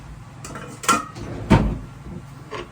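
Chicken adobo being stirred in a pan, a few scattered clanks and scrapes of a utensil against the cookware, two louder knocks among softer taps.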